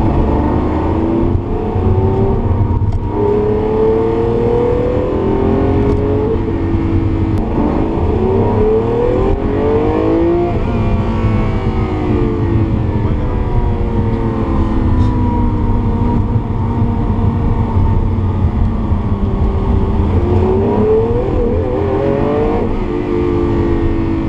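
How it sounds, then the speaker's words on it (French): A loud Lamborghini engine revs and drones steadily while driving through the Italian countryside, its pitch rising and falling through repeated gear changes over a constant rumble. "Maintenant, si on écoute le moteur"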